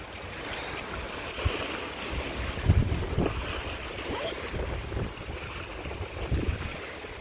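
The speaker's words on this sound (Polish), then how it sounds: "wieje, jak słychać" Wind gusting at a Greek seaside spot, rumbling across the microphone in low buffeting swells over a steady hiss of waves and surf, with no voices heard.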